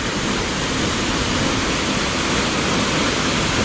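Rushing water of a mountain stream pours in a continuous, loud, even roar close by, with no pauses or voices over it.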